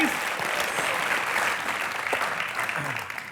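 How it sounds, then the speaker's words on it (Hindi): Studio audience applause on a Hindi television comedy show, a dense, steady wash of clapping throughout, with a voice faintly audible beneath. "चलिए जोरदार तालियां इलियाना और शाहिद के लिए प्लीज।"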